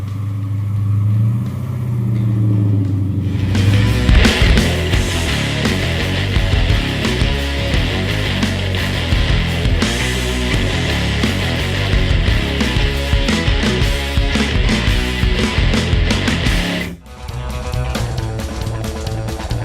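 A Holden Monaro driving, its engine droning loudly and steadily up close, with rising revs and a brief dip near the end before the engine note returns.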